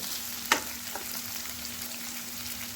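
Chopped onions and green chillies fry in a pan for a masala dosa filling, giving a steady soft sizzle with one sharp clatter of stirring near the start, close and without talk.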